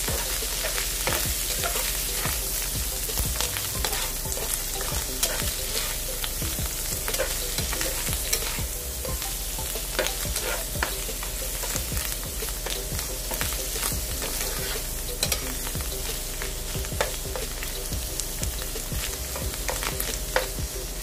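Mushrooms fry with a steady close sizzle while a utensil repeatedly scrapes and stirs them in the pan, continuous and without talk.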